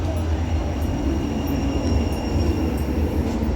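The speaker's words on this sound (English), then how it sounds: "And here's our tram to Middlewood" A Sheffield tram-train rolls in on rails toward Middlewood with a continuous low rumble of wheels and a faint high squeal, steady and fairly close.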